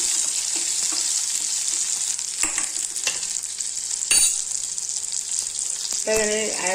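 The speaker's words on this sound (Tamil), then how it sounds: "உப்பு போட்டு நல்லா வதக்கிக்கலாம். உப்பு போட்டோம்னா டக்குன்னு வெங்காயம் வறுபடும்." Chopped onions and salt frying in a pan for a no-coconut chutney: a steady, close hiss of sizzling with a few scraping stirs. It ends in a brief clatter of utensils.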